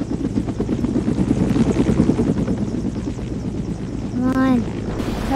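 A video-game helicopter whirs loudly as it takes off, its rotor drone continuous and close, with a short voiced sound near the end.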